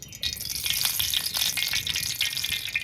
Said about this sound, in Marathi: तव्यात आता आपण तेल टाकूया.